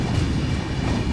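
Konkan Railway RoRo freight train carrying loaded trucks rolls past, a steady loud rumble of wheels and wagons filling the whole moment with no pauses.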